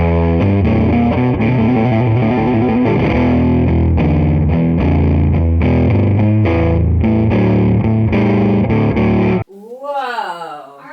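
Electric guitar built from a YouTube plaque played loud with heavy distortion, a dense run of chords and notes, followed by a short burst of a voice reacting.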